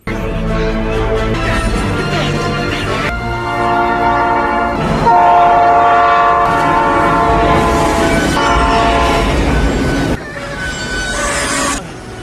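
A loud train rumbles close by, its horn sounding in long harmonic blasts over the rolling clatter of the cars, with no talk.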